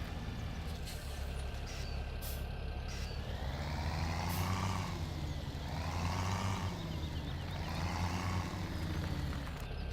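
A truck backing up in Farming Simulator 17, with a steady low engine drone and slow rising-and-falling engine swells, heard plainly and without talk.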